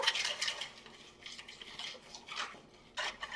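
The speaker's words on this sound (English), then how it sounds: "I'm just going to whisk this up into a batter" Eggless French toast batter whisked briskly in a bowl, with rapid rhythmic clicking and scraping of the whisk against the sides, close and fairly quiet with no voices.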